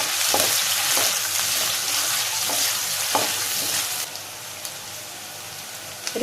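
Chopped shallots stir-fry in a pan for a chembu and jackfruit-seed coconut stir-fry, with a steady close sizzle and crackle plus a few scraping stirs of a spoon, no voices.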